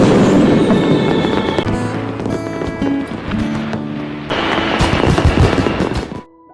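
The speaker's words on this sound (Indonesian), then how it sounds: "muncullah kembang api yang sangat besar" Large fireworks crackle and pop loudly in rapid bursts over swelling dramatic music, the barrage fading out at the end.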